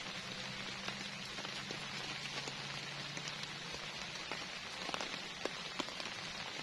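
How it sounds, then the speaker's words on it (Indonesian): Steady rain patters on a tent during an overnight solo camping trip in heavy rain and strong wind, a constant soft hiss with scattered sharper drops close by, no voices. "nggak taunya beneran malam ini hujan"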